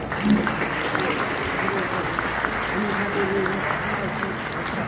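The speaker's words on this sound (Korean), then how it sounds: "새로운 발걸음을 내딛는 신랑 신부에게 큰 박수 부탁드립니다." Wedding guests in a hall give the bride and groom a sustained round of applause, steady and moderately loud, with faint voices and a low tone underneath.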